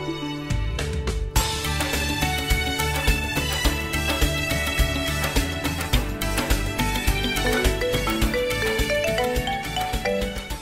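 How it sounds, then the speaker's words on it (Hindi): A musical phone ringtone plays continuously, a bright repeating melody with steady beats, close and fairly loud, with no voices. "ये फोन की आवाज कहां से आ रही है?"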